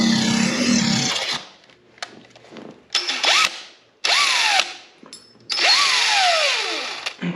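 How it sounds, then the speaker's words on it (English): A power drill with a 13/64 bit bores out a Puma STS slam latch in four loud, close bursts separated by near silence, the motor whining down in pitch as each run winds to a stop. "those are drilled out"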